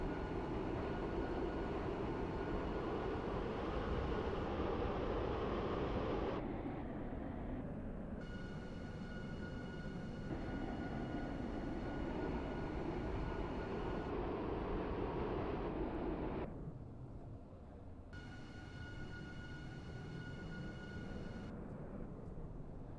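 A Class 331/1 electric multiple unit in the Stepford County Railway game rumbles steadily along with a constant loud traction hum, which shifts in pitch as the tone changes at several points.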